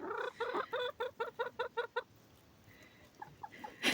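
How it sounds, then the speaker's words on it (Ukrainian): Hens on a Ukrainian homestead give a quick rhythmic series of clucks, about a dozen evenly spaced calls, followed by quieter scattered clucks and a sharp louder call at the end, all fairly faint. "Мої курі передають вам вітання."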